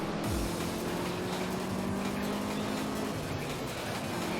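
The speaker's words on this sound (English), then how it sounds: "This car feels so slow." Engine of a car in the racing video game Juiced, a steady loud roar with a sustained droning tone that fades slightly, holding at an even level throughout with no talk.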